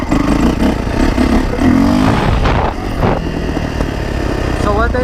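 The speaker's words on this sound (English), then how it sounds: "Let's do some wheelie sessions" A Yamaha YZ450F dirt bike engine revs loud and close during wheelies, rising and falling in bursts over a steady throbbing idle, with some mechanical clatter.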